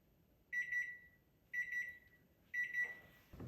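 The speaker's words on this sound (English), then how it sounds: "When the timer goes off," An electronic timer beeps in three quick bursts of rapid chirps, evenly spaced about a second apart, fairly clear against a quiet background.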